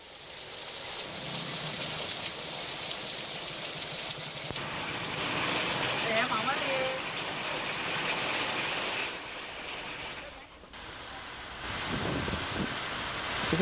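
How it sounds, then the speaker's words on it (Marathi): Heavy rain pours over villages in Washim district, Maharashtra, a steady, dense hiss of falling water that fills the whole stretch with little change and no voices. "किनखेड, मसला, गोवर्धन यासह अनेक ठिकाणी जोरदार पाऊस झाला."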